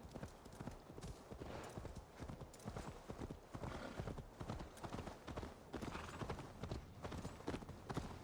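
Quiet, rapid clip-clop of horse hooves in the video game Assassin's Creed Valhalla keeps a steady trotting rhythm throughout.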